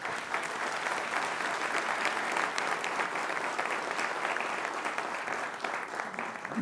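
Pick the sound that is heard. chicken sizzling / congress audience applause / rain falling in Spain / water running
congress audience applause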